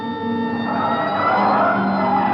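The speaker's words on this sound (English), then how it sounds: "Hit the siren." A police car siren wails loud and close during a chase, a steady continuous tone with no voices over it.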